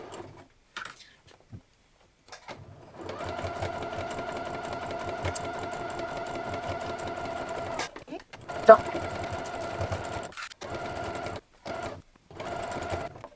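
A domestic sewing machine stitches a bow-shaped cushion, running in steady whirring stretches with short pauses and small clicks of the needle between runs.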